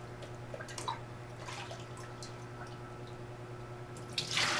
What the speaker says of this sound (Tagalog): Let's fill the tank.